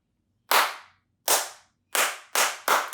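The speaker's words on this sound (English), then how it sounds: "It starts off with a slow clap," Sharp, loud hand claps alone, starting slow with wide gaps and quickly speeding up, five claps in all.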